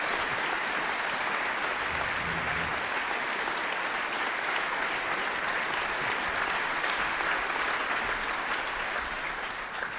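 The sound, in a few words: audience applause after a talk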